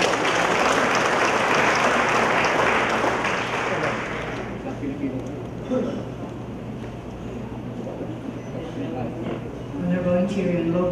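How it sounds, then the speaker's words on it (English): Applause from an audience at a United Nations peacekeeping ceremony, loud and dense for about four seconds, then thinning out under a steady hum as a voice begins to speak. "Let us give her a big round of applause."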